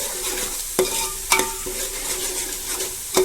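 Chicken gravy with freshly added ginger fries in oil, a steady close sizzle broken by a few sharp clinks of a spoon stirring against the pan.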